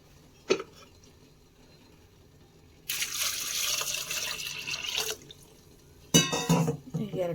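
Water poured into a pressure cooker holding moong dal, two separate splashing pours of a couple of seconds each following a short knock, fairly close with no talk.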